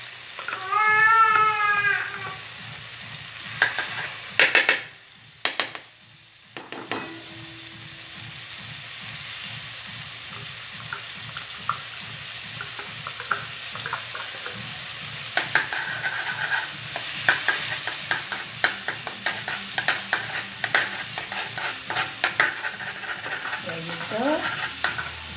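Butter or margarine melting in a pan hisses steadily and quietly throughout, with clattering stirs near the start and scattered faint ticks later; a cat meows several times at the opening and once more near the end.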